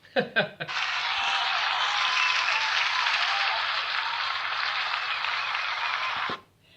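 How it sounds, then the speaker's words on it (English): Dense audience applause starts abruptly after a couple of brief sounds, holds steady and full for about six seconds at a recorded interview event, then cuts off sharply. "I think that answer actually should get the most amount of applause so far"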